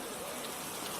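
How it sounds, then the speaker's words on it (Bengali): Cartoon rain falls as a dense, steady hiss of drops with no break and no voices. "দেখছো না চারিদিকে বৃষ্টি নামছে।"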